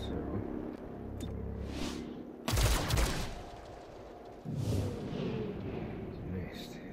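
Enemy gunfire in the video game XCOM Chimera Squad: a sharp, loud burst of shots in the middle followed by a second, rumbling volley, with someone talking between and over them.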